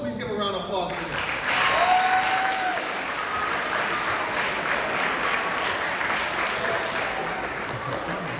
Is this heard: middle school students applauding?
yes